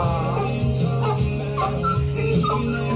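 A two-year-old dog whimpers and whines continuously in high, wavering cries, close by and fairly loud.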